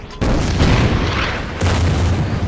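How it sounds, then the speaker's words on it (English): Artillery fire in the war strategy game Order of Battle Pacific: two deep, booming blasts about a second and a half apart, each a loud broadband thump whose rumble lingers and keeps the clip dense. "Our artillery should be able to take this guy out."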